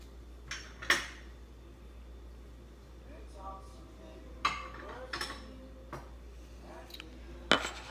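Bowls and containers clink and clatter as they are set down and shuffled around, several scattered knocks with quiet room noise between them.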